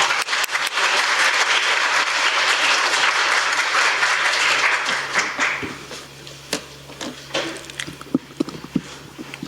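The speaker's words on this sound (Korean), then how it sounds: "큰 박수 부탁드리겠습니다" Applause from a seminar audience welcoming the first presenter, loud dense clapping for about five seconds that thins into scattered claps before fading out.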